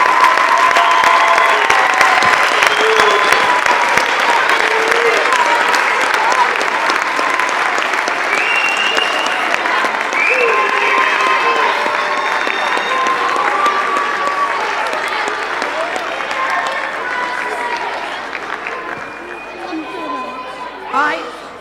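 Parents at an elementary school winter choral concert applaud, a loud, dense, sustained clapping from a large crowd mixed with chatter and a few cheers, slowly thinning toward the end.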